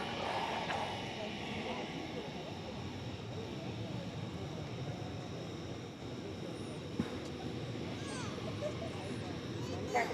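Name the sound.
airplane taking off at DFW airport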